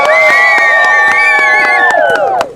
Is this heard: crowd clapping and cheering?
yes